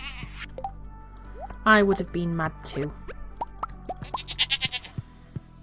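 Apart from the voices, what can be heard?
goats bleating in video game Stardew Valley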